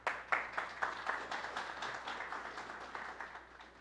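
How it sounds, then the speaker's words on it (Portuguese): An audience applauds for a speaker being introduced at an agroforestry presentation, with steady, moderately faint clapping spread evenly across the room and a few sharper claps standing out. "Salve de palmas"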